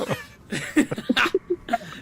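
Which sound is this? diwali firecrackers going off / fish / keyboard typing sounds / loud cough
loud cough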